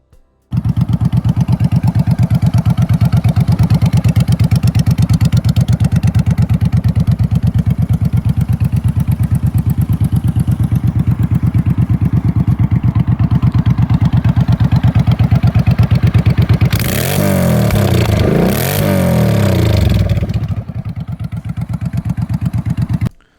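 A 2005 Suzuki M50 motorcycle converted to a bobber runs close by with a loud, steady engine rumble, then revs sharply a few times near the end before settling back.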